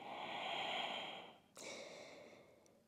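Slow, steady breathing during a floor core-strengthening exercise for lower back pain, a long hissing exhale followed after a brief pause by another breath, close and soft with no talking.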